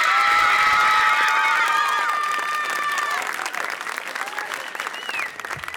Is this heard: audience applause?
yes